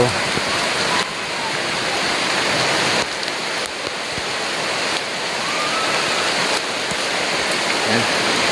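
Rain pours steadily over a clean river, a dense continuous hiss of water that stays loud and unbroken throughout, with a few faint, indistinct voice-like sounds mixed into the wash.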